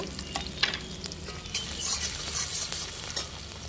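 Chopped onion and tomato frying in oil for egg tadka, a close hissing sizzle that swells louder partway through as the tomato goes in, with light stirring scrapes.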